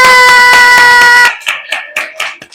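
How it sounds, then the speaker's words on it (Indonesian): Sixth-grade classroom children doing a rhythmic praise clap together, a series of sharp group hand claps in a patterned beat, loud and close, first over a sustained tonal hum, then alone. "Tepuk hebat untuk semuanya."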